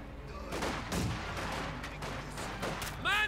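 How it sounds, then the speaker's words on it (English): Mortar fire and explosions in a Company of Heroes 2 match: a series of broadband booming blasts and crackling impacts at steady loudness, with a sharper metallic burst near the end. "Mortar fire here."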